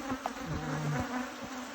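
Honey bees buzz inside a catchbox hive, a close, steady droning hum with overlapping wingbeat tones rising and falling, no voices.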